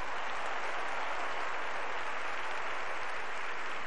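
A church congregation at a women's worship service applauds the Lord, a dense, even wash of clapping, steady and somewhat distant, with no talking over it.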